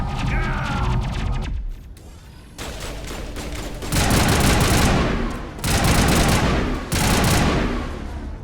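Assault rifle fire in the Mass Effect video game: loud, rapid bursts of automatic gunfire in several long volleys separated by short pauses, with no talk between them.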